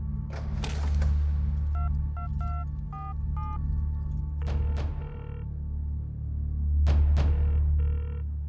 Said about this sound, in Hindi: पारस फोन क्यों नहीं उठा रहा?